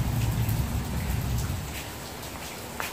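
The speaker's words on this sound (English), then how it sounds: "and now it's raining" Rain falls steadily outdoors on a summer day, a dense hiss with low rumble, loudest in the first half and easing slightly toward the end; no one speaks.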